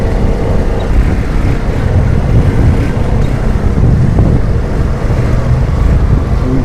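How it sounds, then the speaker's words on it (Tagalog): Steady broadband rumble of road traffic at night in Barangay Pasong Putik, continuous low engine and tire noise with wind buffeting the microphone throughout, no voices. "Medyo matraffic pa rin dito."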